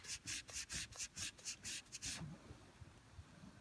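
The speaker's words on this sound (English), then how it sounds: "we're going to rub some of this paint here" A cloth rubs back and forth over painted wood furniture to test whether the paint comes off, giving about ten quick, close scrubbing strokes in steady rhythm before falling quiet.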